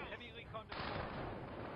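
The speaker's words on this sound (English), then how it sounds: "More needle fire. You can't have enough needle fire." Needle fire weapon shots in the Supreme Commander video game: a dense, loud burst of gunfire-like blasts that erupts partway through and stays sustained to the end, with game effects beneath.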